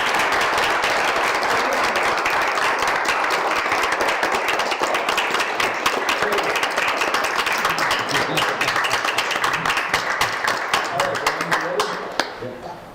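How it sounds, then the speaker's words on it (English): A council meeting audience applauds in a dense, steady round of clapping that carries on for over ten seconds before tapering off, loud and close, with voices talking over it. "Can we applaud?"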